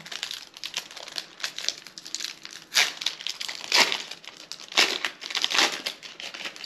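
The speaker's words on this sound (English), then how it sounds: "So I'm going to rip them, put them in one pile." Pokemon Cyber Judge booster packs being ripped open, with close crinkling and tearing of foil wrappers in uneven bursts and a few sharper rips, no voices.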